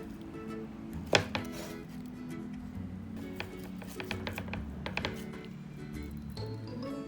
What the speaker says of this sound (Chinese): 把肉切成厚片，切的时候要切均匀。